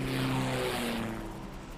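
A propeller aircraft engine drones steadily in a video game before takeoff, a loud sustained hum that slowly eases off.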